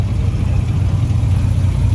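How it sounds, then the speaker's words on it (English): A classic car engine running at a Wednesday cruise night at Surf City Classics, a loud steady low rumble with no clear revving, close by and uninterrupted. "Oh, his engine sounds a lot better."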